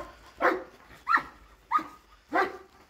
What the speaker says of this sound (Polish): Możemy puścić psa.